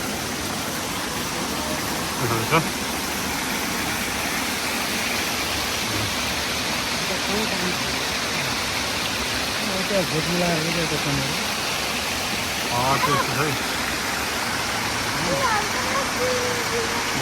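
Steady rushing water pours continuously from a row of stone spouts on the way from Pokhara to Panchkot, a broad splashing roar, with faint voices now and then underneath.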